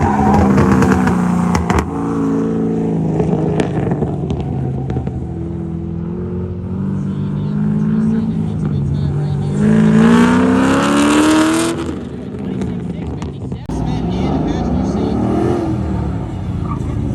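A race car drives an autocross course, its engine roaring loud and near with shifting revs and surges throughout, while an announcer talks over it.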